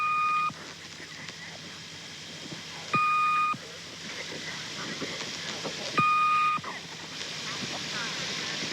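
Three short electronic beep tones from a number station recording, the Swedish Rhapsody, repeat at regular three-second intervals, each a steady two-pitch bleep, over a constant background of static hiss.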